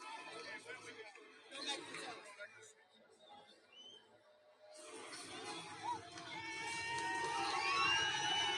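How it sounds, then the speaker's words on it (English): A large stadium crowd at the Super Bowl cheering and shouting, a dense roar of many voices that dips briefly and then swells louder toward the end. "And then they start cheering when Trump comes in."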